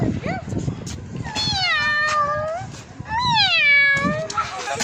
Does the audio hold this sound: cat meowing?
yes